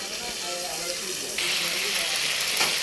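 Spices sautéing in a pan for a Bengali vegetable curry, a soft continuous sizzle and hiss that brightens and swells partway through, heard close and fairly quiet.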